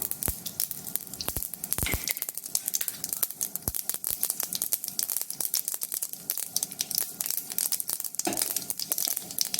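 Mustard seeds popping and spluttering in hot oil while cooking semiya upma, with dense rapid crackles and sharp pops throughout, loud and close, with no talk.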